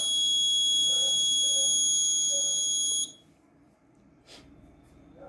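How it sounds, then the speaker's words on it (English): Temperature alarm buzzer on an ESP8266 Arduino health monitor, a loud continuous high-pitched electronic tone that sounds for about three seconds and then cuts off abruptly, leaving quiet room noise. "temperature 55 above, alarm on."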